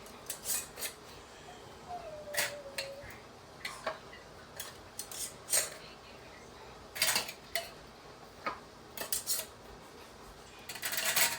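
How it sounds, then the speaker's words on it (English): Metal lids and rings set onto very hot glass canning jars of whole berry cranberry sauce, a series of sharp clinks and clicks at irregular intervals, close and fairly quiet, with no one talking. "I'm going to go ahead and put my lids and rings on now"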